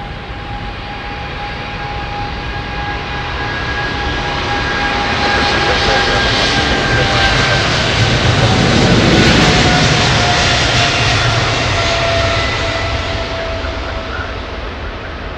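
An Airbus Beluga freighter takes off from runway 27 right at London Heathrow, its jet engines building into a loud, sustained roar with a steady whine that swells to a peak and then slowly fades.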